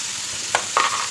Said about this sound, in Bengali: ওগুলো ভাজা হবে